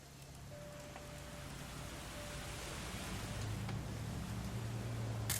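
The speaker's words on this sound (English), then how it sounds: "It's gonna rain the whole week." Rain falls in the video game What Remains of Edith Finch as a steady, soft wash that grows slightly louder, heard alone with no voices.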